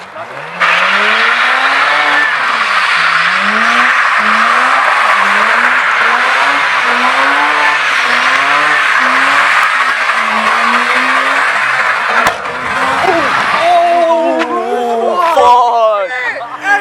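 A drift car's tires squeal and skid loudly and continuously, the engine revving in rising and falling waves, ending with a burst tire; people's voices are heard near the end.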